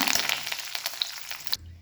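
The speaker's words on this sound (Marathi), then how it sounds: "तेलामध्ये मी आता कढीपत्ता तळून घेणार आहे" Curry leaves crackle and spit in hot oil for a tempering, a dense close burst of sharp pops for about a second and a half before cutting off abruptly.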